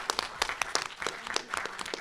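Audience applause at a student body presidential and vice presidential debate: a steady, dense wash of many hands clapping at moderate distance, with faint speech underneath.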